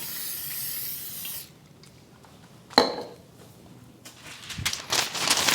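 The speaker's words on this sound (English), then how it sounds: "Now we need to go ahead and spray it, the sides and the bottom" A hissing burst of cooking spray onto a 9x9 baking pan, then a clink of the metal pan, followed by further short sprays and light handling noises close by.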